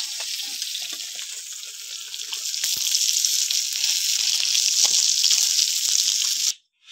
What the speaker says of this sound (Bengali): মাছ ভাজা হয়ে গেছে, আমি এবারে তুলে নিচ্ছি।